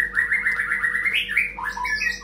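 A caged songbird sings a rapid run of bright, close chirps and trills, rising and then breaking into sharper varied notes, over a low steady hum.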